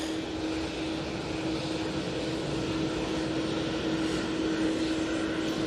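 A TUI airliner at Manchester Airport gives off a steady, broad engine roar with a constant tonal hum running through it, loud and unbroken throughout with no voices.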